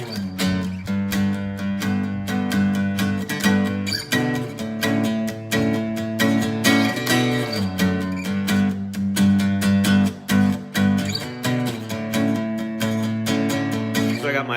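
Acoustic guitar strumming a song, a steady rhythmic pattern of full chords that is continuous and close, played alone without singing.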